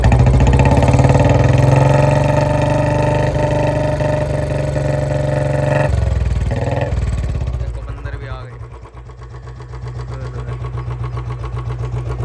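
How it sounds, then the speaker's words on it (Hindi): A used Royal Enfield Bullet Standard 350 motorcycle engine runs loud and steady up close, with a throttle blip partway through before it drops back to a thumping idle. "अब थोड़ा इंजन को चेक करने के लिए रेस वगैरह देना, इसकी आवाज़ देखो।"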